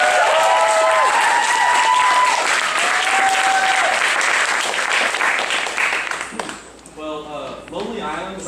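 A theatre audience at a Shakespeare competition applauds in a dense, loud burst that fades after about six seconds as voices and cheers come through.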